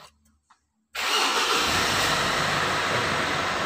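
A Mitsubishi Pajero Sport that has just had its battery replaced cranks and starts immediately after a few faint clicks, then runs at a loud, steady idle close to the listener.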